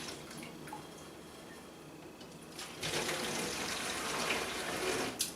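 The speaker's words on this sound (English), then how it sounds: "I'm just going to start pouring this back in the jug through the strainer." Home brew is poured from a bucket through a strainer into a jug: a few scattered drips first, then a steady splashing, trickling flow of liquid, close and continuous without speech.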